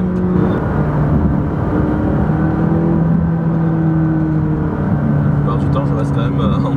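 McLaren 570S sports car engine droning steadily while shifting between gears on a desert road near Las Vegas, loud and continuous with shifting tones throughout.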